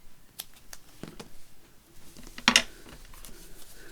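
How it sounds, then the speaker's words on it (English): Scissors snip through paper while a craft accordion book page is made; a few soft clicks and rustles lead to one sharper, close cut midway, with no talking. "Let's just cut another little piece out."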